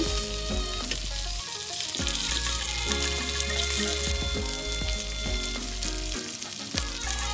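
Norwegian mackerel fries Indian style in a hot pan, a loud continuous crackling sizzle throughout with occasional spattering pops and a few clinks of a spatula, no one speaking.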